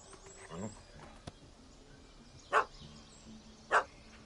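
A dog barks in the video game The Witcher 3: Wild Hunt, with two short sharp barks a second apart standing out over a quiet game background, and a fainter yip just before them.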